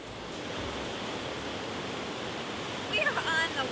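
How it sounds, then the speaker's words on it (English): Ocean surf crashes against the shore on the wild coast of St. Barth, a steady broadband roar of breaking waves, with a few faint bird chirps rising near the end. "On this coast, the waves crash mercilessly against the shore."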